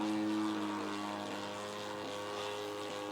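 A steady droning engine hum with a low propeller-like buzz from a Praga Baby E114 light aircraft, constant and moderately loud, no talking.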